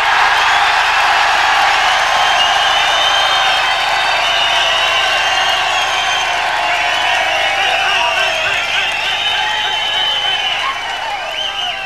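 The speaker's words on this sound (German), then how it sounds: "Und der letzte Applaus-Test für Birgit Schlenker" Applause and cheering from a live audience at an outdoor radio circus show in Helmstedt, 1986, a steady, broad wash of clapping that holds for the whole stretch and fades slightly at the end.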